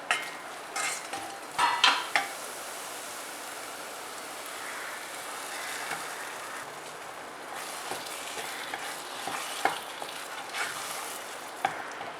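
Garam masala and spices sizzle steadily in a hot pan for dal fry, with occasional scraping and clinks of a utensil stirring, close and moderately quiet.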